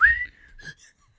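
A person whistles to imitate wind passing over a hollow bone: one rising, airy tone that holds briefly, then a shorter fainter note, close and clear with no talking.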